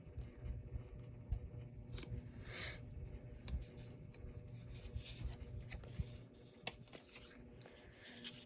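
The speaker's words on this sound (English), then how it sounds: "I want to save enough room around the laminating to cut without the laminating peeling off." Scissors cut around laminated paper, giving a near, steady rasping and rubbing with a few sharper snips scattered through it and no voices.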